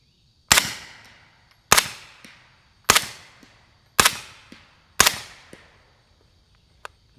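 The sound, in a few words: suppressed gunshots, 147 grain subsonic 9mm rounds, YHM R9 suppressor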